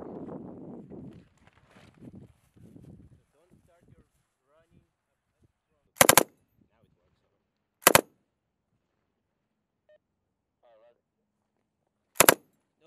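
Three short, loud bursts of machine gun fire are aimed at a range berm, spaced a couple of seconds apart after some faint talk at the start.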